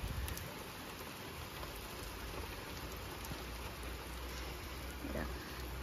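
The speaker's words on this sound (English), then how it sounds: "Mind me just doing a random video of it raining outside." Steady outdoor rain pours down, heard from under a shelter as a dense, constant hiss of drops on surfaces, fairly close and with no talking.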